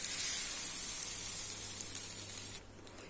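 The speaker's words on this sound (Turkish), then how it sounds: "Krep harcımızdan tavamızı şöyle kaldırarak hemen hızlı bir şekilde yayalım." Crepe batter sizzling in a hot pan, gluten-free and flourless with high protein, a continuous bright hiss that holds steady and then drops sharply near the end, alone without talk.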